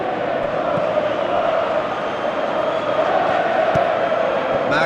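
A dense, steady roar rises from a virtual stadium crowd in Pro Evolution Soccer 2017, a constant wash of massed voices with faint cheers swelling through it.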